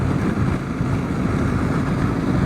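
Strong wind buffets the microphone beside the Great Central highway, a dense, steady roar with no breaks that fills the whole stretch.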